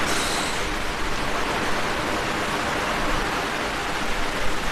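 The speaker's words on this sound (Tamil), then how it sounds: "அதனால இப்போ பாத்துங்க அப்படின்னா செம்ம மழை வெளியே." Heavy rain with strong wind pours down outside a house during an evening power cut, a dense, steady, loud hiss filling the whole stretch with no voices.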